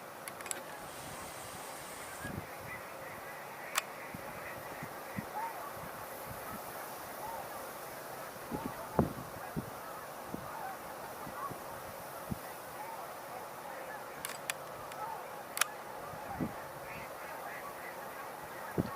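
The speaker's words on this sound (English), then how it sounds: "I hear mallards" Scattered distant quacks from mallard ducks sound over a windy outdoor background, faint and intermittent, with no one talking.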